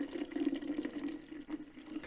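Hot homemade maple syrup pours through a filter in a steady, close liquid stream with a continuous gurgling wash, no voices present.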